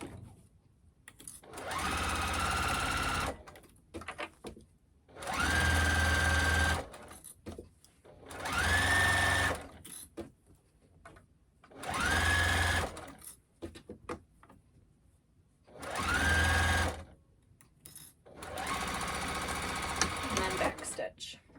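Sewing machine stitching Minky fabric for an infinity scarf, running in six separate bursts of steady whirring, each a couple of seconds long, separated by pauses, close and clear.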